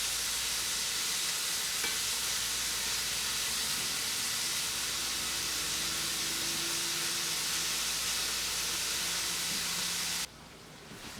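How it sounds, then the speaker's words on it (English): Mini Italian meatballs fry in a pan with a steady, even sizzle that holds for about ten seconds, then the sound drops away abruptly near the end. "Just make sure that if you're seeing one side of these meatballs get a little browner, turn it over, let the other side cook."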